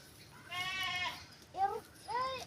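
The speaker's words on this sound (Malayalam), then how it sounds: "ഇതറിയാമോ? ഇതാണ് ആട്." A goat bleats several times close by, a drawn-out call followed by two shorter wavering bleats over quiet background.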